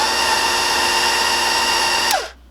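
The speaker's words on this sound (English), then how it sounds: "we'll mix these up until they're just combined together" An electric mixer whirring steadily at high speed as it blends brown sugar and molasses into cookie dough, loud and close, then spinning down and stopping near the end.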